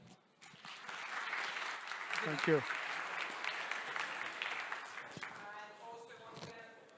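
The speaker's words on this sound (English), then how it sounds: "please give a round of applause for our next keynote speaker" An audience applauds a keynote speaker at a data science conference, a sustained burst of clapping filling the room for several seconds while a voice speaks briefly near the end.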